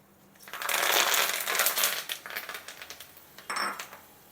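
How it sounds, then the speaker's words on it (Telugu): Curry leaves dropped into hot oil with frying cashews for kattu pongal, a sudden loud crackling sizzle that bursts up, then fades into uneven spitting pops with a second flare near the end. "ఇప్పుడు మనం కరేపాకు వేద్దాం"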